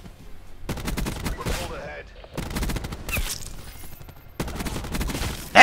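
Bursts of automatic gunfire in Call of Duty: Black Ops 4, loud rapid volleys broken by short gaps, with a player's voice talking over parts of it.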